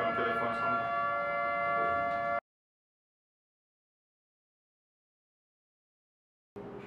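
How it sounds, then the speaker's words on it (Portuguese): A telephone rings in the background during an airsoft rifle review: a steady, tonal electronic ring lasts about two seconds, cuts to silence, then starts again briefly at the end. "tá tocando o telefone só um."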